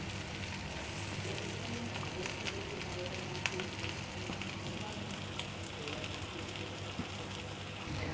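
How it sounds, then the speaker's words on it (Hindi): Shami kebabs shallow frying in a pan give off a steady, close sizzle with crackling pops spread evenly throughout, no voices over it. "इनको हमने डीप फ्राई नहीं करना है, शैलो फ्राई करना है।"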